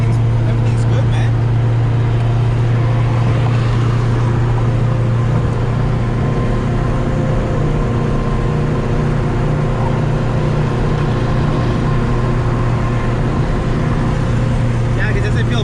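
A 1993 Honda Civic CX turbo cruising at about 60 mph, heard from inside: a constant loud engine drone and road roar with a strong low hum, steady and unbroken, with occasional talk mixed in.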